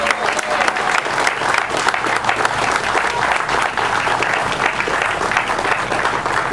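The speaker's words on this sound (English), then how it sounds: "I think that he certainly deserves a round of applause for all of his work" Steady crowd applause at an outdoor police chief swearing-in ceremony, dense clapping that holds loud and even throughout with no pauses.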